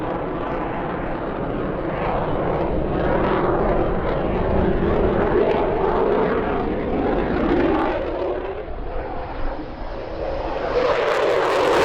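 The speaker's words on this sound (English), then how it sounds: "include several of the Raptor's trademark manoeuvres, like this very impressive J-turn" An F-22 Raptor fighter jet performing a J-turn post-stall manoeuvre at the EAA AirVenture Oshkosh airshow, a loud continuous engine roar that swells and shifts in pitch as the jet turns, with no speech.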